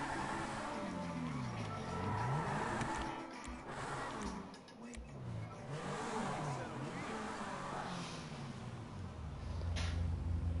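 A sports car, an Audi-style Gallardo supercar in the game GTA 5, revs and accelerates through rising and falling engine sweeps, loud and continuous with some ticking in the background.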